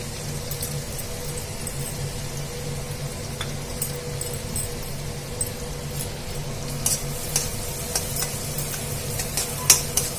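Finely sliced onions fry in hot oil in a pan for a rajma curry, giving a steady close sizzling hiss throughout with occasional light stirring clinks and scrapes, no voices.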